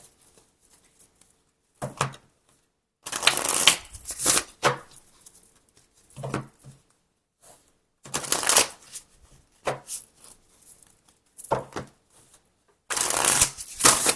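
Tarot cards shuffled by hand in repeated bursts of crisp riffling and flapping, each lasting a second or two, separated by short pauses, loud and close with no talking.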